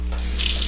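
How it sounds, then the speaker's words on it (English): Water runs steadily from a newly connected tap in an echoey, freshly plumbed room, a continuous close hiss and splash that brightens as the flow strengthens. "Water flows."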